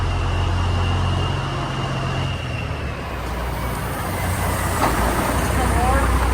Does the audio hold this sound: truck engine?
yes